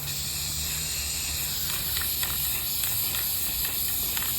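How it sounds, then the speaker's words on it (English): A steady hiss from a spray paint can sprays black paint continuously onto a chicken wire topiary over a leaf bag, with faint short puffs and clicks scattered through it, close by and without talk. "then we're going to spray paint it black"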